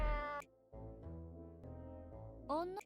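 A cat meows in a Nights of Azure video game cutscene, two clear tonal meows, one at the start and one at the end, with low cutscene music between them.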